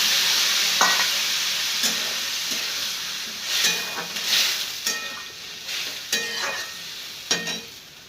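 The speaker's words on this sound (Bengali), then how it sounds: "এবার জল দেবো একটু, পোস্ত বেটেছিলাম সেই বাটা জলটাই ছিল" Steady bright sizzle from potatoes frying in a pan as ground poppy-seed water is poured in, with soft stirring scrapes and intermittent spatters and bubbling pops throughout, no voices.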